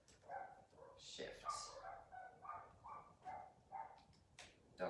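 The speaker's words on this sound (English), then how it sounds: "Dogs are agreeing." Dogs bark and yip in a run of short, repeated calls, fairly close and moderately loud, with a brief higher whine partway through.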